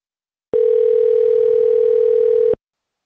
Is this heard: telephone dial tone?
yes